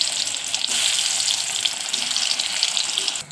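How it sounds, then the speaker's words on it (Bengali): Pieces of ash gourd fry in hot oil in a kadai, making a loud, continuous near sizzle with a bright hissing texture and small spits throughout, with no voices. "তো চাল কুমড়োটার দিকে ভাজা হচ্ছে,"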